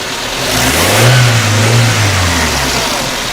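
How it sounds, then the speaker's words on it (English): The engine of a 2011 Toyota Corolla fitted with new headers revs up once and settles back, a loud, close, smooth rise and fall of engine roar lasting a few seconds, with no voices. "Here's a little bit of a rev here."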